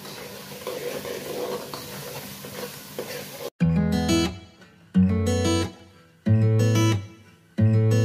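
Spices frying in a pan for kadhi pakora give a steady close sizzle with some stirring for about three seconds, then give way to a series of loud, separate tonal bursts.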